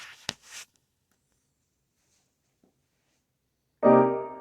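A minor 9 chord played on piano, stacking flat 3, 5, flat 7 and 9 over a root and flat 7 in the left hand, rings out near the end as a single sustained struck chord after a few faint taps.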